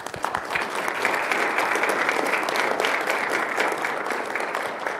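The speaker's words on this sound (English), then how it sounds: "So let's give another round of applause for him." A room full of people at a school board meeting breaks into a round of applause, a steady dense clapping that holds evenly for several seconds, moderately loud with no talk.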